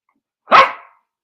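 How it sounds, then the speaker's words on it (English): A dog gives a single loud, close bark, wanting to be let outside, then quiet. "I've got a dog here that is shouting at me because he wants to go outside to do his business."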